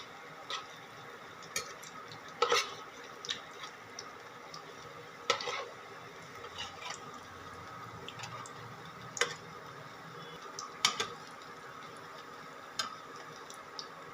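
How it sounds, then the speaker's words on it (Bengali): A savoury snack fries in a pan of hot oil until lightly browned, giving a faint, steady hiss dotted with scattered sharp crackles and pops that recur irregularly throughout. "এবার আমরা এটাকে হালকা বাদামি যখন ভাজা হয়ে যাবে এক পিঠ, তখন এটাকে আস্তে আস্তে উল্টে দেবো।"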